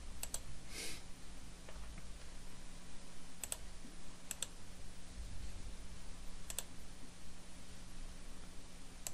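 Rapid computer mouse clicks during CAD sheet drafting, with sharp isolated clicks and short double clicks spaced across a steady hiss.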